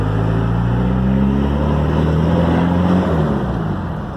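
Modified Toyota Hilux engine revving loudly from inside the cab, a deep sustained roar that holds and rises, then eases off toward the end, with no talk over it.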